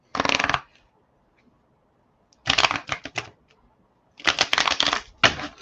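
Tarot cards being shuffled by hand in three crisp riffling bursts separated by quiet pauses, close and clear.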